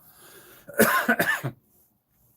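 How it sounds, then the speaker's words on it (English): A single harsh cough burst, close and loud, with a brief throat-clearing rasp, then quiet. "have a little bit of a cough"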